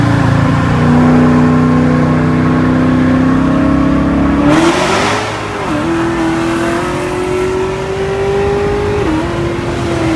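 A car engine revs up loudly and close by, its pitch climbing steadily, dipping briefly at a gear change, then climbing again.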